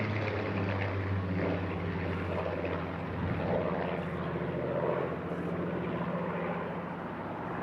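A Supermarine Spitfire, a former meteorological research aircraft, flies at the Eastbourne airshow, its propeller engine drone loud and steady throughout with a slight rise and fall in tone.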